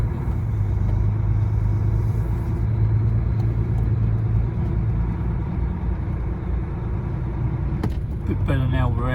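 A truck drives over compacted snow with ice beneath on a road in Kent, England, giving a steady loud engine rumble and road noise throughout, with a brief clatter near the end.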